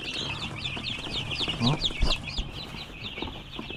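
Free-ranging parawakan and darag chickens cluck and chatter in a busy yard, with repeated overlapping calls, soft rustling and a brief flap or thump in the middle, at moderate loudness throughout.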